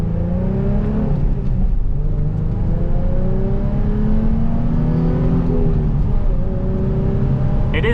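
A Nissan 350Z roadster accelerates hard with the roof closed. The engine drones loud and close from inside the cabin, its pitch climbing through gear pulls, with a brief dip at each shift and no talking.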